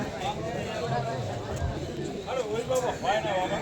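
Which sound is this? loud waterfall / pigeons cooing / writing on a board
pigeons cooing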